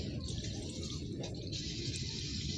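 Irrigation water runs steadily along an earthen channel and fills a field plot in a village, making a continuous soft rush and gurgle with no break and no voices.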